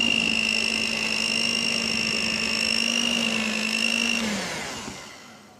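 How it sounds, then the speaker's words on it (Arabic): Kitchen blender churning a thick homemade ice cream mixture, a steady loud whirring drone with a strained motor tone that holds for several seconds, then winds down as the blender is switched off. "بقيت بين ال5 دقائق الى 7 دقائق اخلط بيها"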